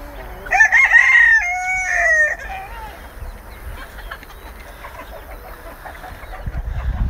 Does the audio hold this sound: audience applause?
no